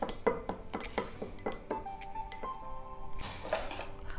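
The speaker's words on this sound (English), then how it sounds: "Stir it well." Spoon clinking against a glass while stirring a chili lime cashew feni drink, a quick run of bright metallic chinks with ringing tones, close and clear, with no talking.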